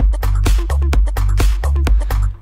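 Electronic music loop made in Ableton Live, a punchy repeating beat with booming kicks and crisp percussive hits in a tight rhythm, loud and upfront.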